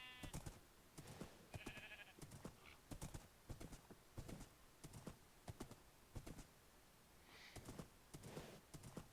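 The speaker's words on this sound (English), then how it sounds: "Galloping in Minecraft on a horse with no name." Rhythmic hoofbeats of a horse galloping at a steady clip in Minecraft, with occasional brief whinnies and game sound effects, no talking.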